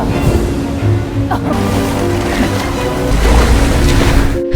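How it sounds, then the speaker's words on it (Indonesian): Big ocean waves crash against a small one-person raft, a loud, continuous roar of surging water and surf with wind, close and dense throughout. "Namun kocaknya rakit buatan Adam langsung hancur setelah dihajar ombak yang besar"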